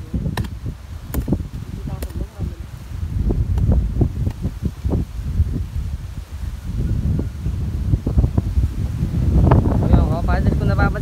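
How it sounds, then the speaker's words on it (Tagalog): Strong wind gusts buffet the microphone outdoors on a farm, producing rough, uneven rumbling bursts. Faint voices come and go beneath it. "kung napapansin nyo, magalawang ating camera, mahangin po dito"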